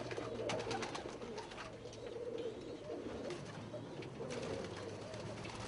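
Archangel pigeons of mixed colors coo softly and continuously in a loft, a low repeating murmur layered from several birds, with faint chirps and a few wing flutters mixed in.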